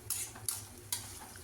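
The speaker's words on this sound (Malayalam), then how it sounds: "ഞാനിപ്പോൾ ഇത് വെറും ഓയിലിലാണ് ഫ്രൈ ചെയ്യുന്നത്." Sliced onions fry in plain oil in a heated pan over a medium flame for Thalassery chicken dum biryani. A steady, close sizzle runs throughout, broken by three sharp clinks of a utensil stirring against the pan.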